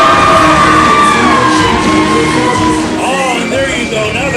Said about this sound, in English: Now the crowd making some noise, making Adam Ace happy.